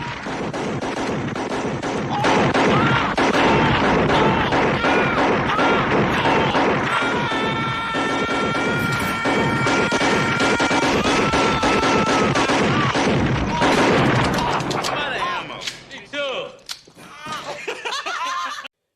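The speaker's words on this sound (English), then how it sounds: "they just massacre him firing squad style" Loud, sustained volley of gunfire from the firing-squad-style execution scene in the 1987 film Robocop, dense rapid shots over a steady tonal backdrop, thinning out and fading toward the end.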